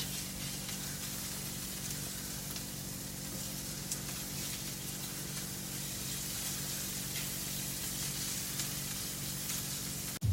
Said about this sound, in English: we are going to add in some ghee. Let that melt, and also some tomato paste. Make it a little saucy. And then toss that around.